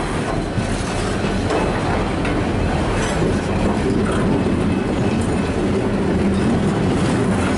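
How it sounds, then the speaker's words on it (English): A steel freight train rolls steadily past close by in Hastings, Melbourne, a constant loud rumble with rattling wagons and faint wheel clatter throughout. "This is the Long Island steel train."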